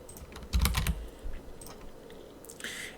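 Keys tapped on a computer keyboard while entering commands in a Linux Ubuntu terminal, a quick cluster of nearby keystrokes followed by a few scattered taps, with no speech.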